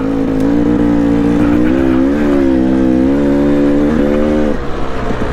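A Yamaha YZ450FX and a KTM 300XC dirt bike ride up a desert wash near 5 Mile Pass, Utah, with a loud, close engine drone whose pitch rises and falls as the throttle changes, steady throughout.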